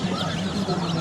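Chickens cluck and call steadily at a busy duck and chicken market in Nazirpur, a dense layer of fowl voices close by with a faint hum of people behind.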